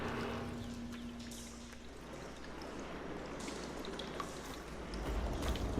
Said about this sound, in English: Get that water circulating.